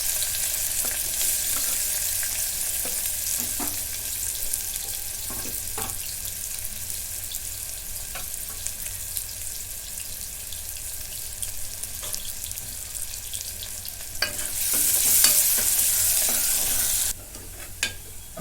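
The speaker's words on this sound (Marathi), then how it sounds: "आता कांदा भाजून झालेला आहे गुलाबी रंगापर्यंत" Steady sizzling of onions frying in hot oil in a pressure cooker, with occasional stirring clinks and scrapes, fairly close, a louder hiss near the end.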